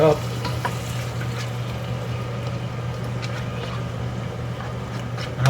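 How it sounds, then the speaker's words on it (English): Mushrooms being stirred in a hot pan for dumpling filling, a steady sizzle with soft scraping of the spoon through the whole stretch, close and fairly even, no talk. "Stir it up."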